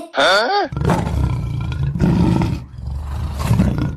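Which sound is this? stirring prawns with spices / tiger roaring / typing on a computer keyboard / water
tiger roaring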